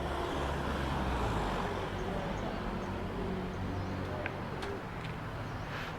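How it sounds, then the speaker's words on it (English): Street traffic in Chiang Mai, Thailand, during Loy Krathong: a steady outdoor roadway hum of passing cars and motorbikes, with pigeons cooing and a few faint chirps over it. "It's quite a bit of traffic up here"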